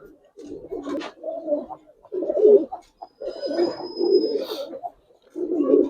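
Colored pigeons coo in a run of soft, throaty, rolling calls with short pauses between them, close by and fairly loud, with a faint thin whistle at one point.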